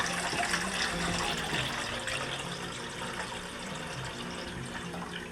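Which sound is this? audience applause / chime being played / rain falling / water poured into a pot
water poured into a pot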